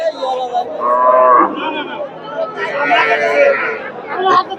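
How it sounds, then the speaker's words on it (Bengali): Cows and calves low repeatedly at a busy rural cattle market selling Sahiwal and local dairy cows, loud drawn-out moos close by over a murmur of crowd chatter. "মোটামুটি প্রচুর গাভীর বাচ্চার আমদানি হয়"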